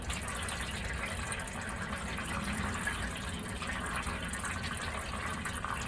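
Transmission fluid poured into a 1988 Mazda B2200 pickup truck, a steady close-up glugging, trickling flow of liquid that carries on unbroken with no talking.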